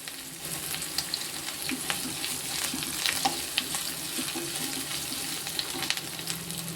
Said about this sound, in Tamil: இதையெல்லாம் நல்லா வதக்கணும்.